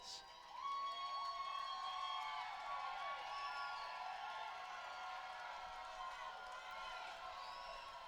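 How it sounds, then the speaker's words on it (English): Fans at a Sugar Land Skeeters versus Somerset Patriots baseball game build into loud, sustained cheering on a full count, with whoops and shouted calls rising over a constant crowd roar. "Crowd getting loud."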